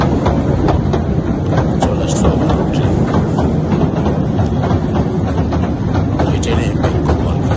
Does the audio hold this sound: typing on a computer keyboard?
no